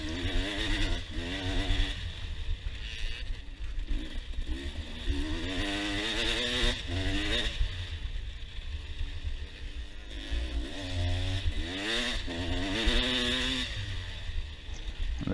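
An enduro dirt bike engine drones steadily through a sandy cross-country track, rising and falling in pitch as the rider works the throttle through ruts and corners, close and continuous with no talk.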